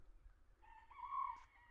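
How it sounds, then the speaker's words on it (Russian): A rooster crows once in a Bulgarian village in late November, a short, faint, distant call rising and holding briefly before trailing off against quiet background. "Петухи кричат круглый год."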